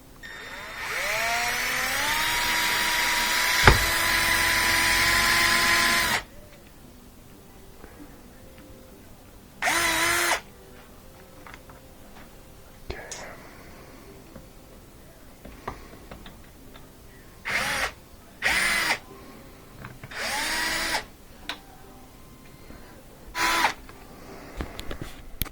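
A power drill bores through the metal of a Miele dishwasher door, one long, loud whine for several seconds, followed later by several short bursts of drilling separated by quieter gaps.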